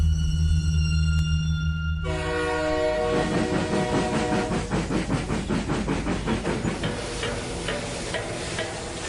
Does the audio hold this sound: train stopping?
yes